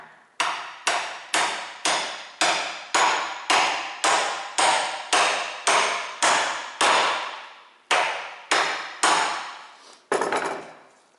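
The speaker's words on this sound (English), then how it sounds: "Set that on the anvil and tap it in." A hammer taps a U-joint for a 1995 Jeep Cherokee XJ front axle into place on an anvil: about fifteen sharp metallic strikes in a steady rhythm, close and loud, with a brief pause near the end.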